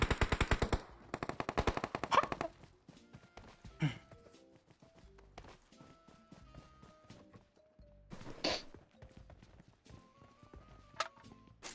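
Rapid automatic gunfire bursts from the mobile shooter game PUBG Mobile, a dense loud volley at the start, then scattered single shots and clicks under game sounds and light talk.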